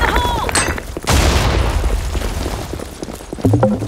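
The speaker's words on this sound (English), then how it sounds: "Fire in the hole. Grenade." A grenade blast in the shooter game BlackShot on a capture-the-flag map, a sudden loud boom followed by a long rumbling decay, with electronic beeps and brief game voice announcements around it.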